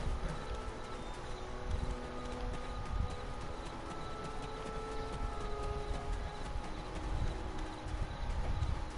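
Video game horse hooves clip-clop steadily at a walking pace, moderately close, with faint birds cooing in the background.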